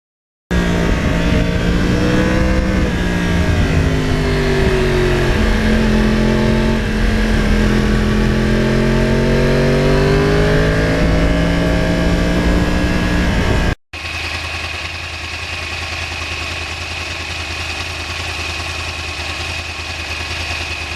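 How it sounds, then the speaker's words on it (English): A 2009 Yamaha R1 crossplane sport motorcycle's exhaust revs up and down in swelling waves for about thirteen seconds, then settles abruptly into a steady, loud, close idle. "I like having the much quieter, I mean significantly quieter exhaust."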